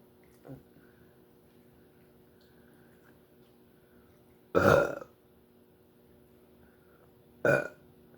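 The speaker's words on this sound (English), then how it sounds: "I feel like I had a burp." Two loud, wet burps break out alone during a lobster and snail eating session, the first at mid-clip and a shorter one a few seconds later, with faint quieter sounds between.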